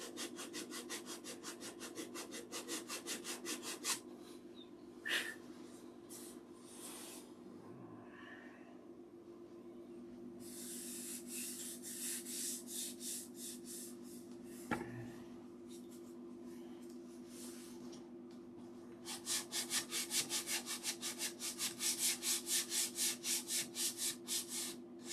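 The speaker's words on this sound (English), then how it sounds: "let's sand out this cockpit here" Sandpaper rubs over the wooden cockpit of a model aircraft in steady back-and-forth strokes, close and fairly loud, with quiet pauses and a rapid, harsh burst of sanding near the end; no one speaks.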